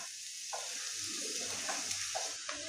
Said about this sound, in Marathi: आता सुरुवातीला आपण मोठा गॅस करायचा आणि हा कांदा फ्राय करून घ्यायचा